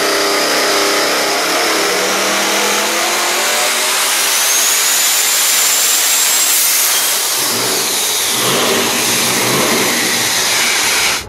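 A Devel Sixteen supercar's custom engine roars loudly and continuously close by, a harsh high revving blare that swells and sweeps in pitch before cutting off at the end, with no voices.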